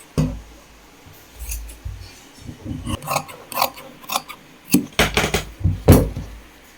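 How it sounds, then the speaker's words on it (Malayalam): Scissors cut through the fabric sleeve of a Chinese-collar burqa being cut out for sewing. The close, crisp snips come in an irregular series and grow denser and louder toward the end, with no talking. "ഇത് വന്ന് ഇനി കൈ കട്ട് ചെയ്തെടുക്കും."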